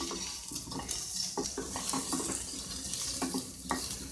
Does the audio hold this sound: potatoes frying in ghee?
yes